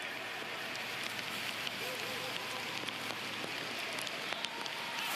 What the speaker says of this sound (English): as the rain continues to pour down in Cameroon